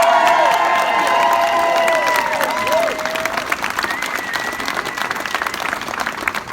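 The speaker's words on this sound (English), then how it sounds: "Let's hear it again for Senator Casey" Rally crowd in Scranton, PA applauding and cheering loudly at first, the clapping thinning and fading into scattered claps and murmurs.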